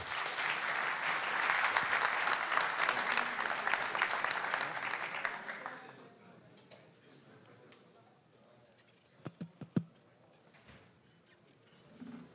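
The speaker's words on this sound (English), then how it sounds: "give him a big round of applause" A conference audience at PyCon Balkan Belgrade 2018 gives a big round of applause for a live-coding speaker. The thick, loud clapping lasts about five seconds, then fades out, leaving a few scattered knocks in a quiet room.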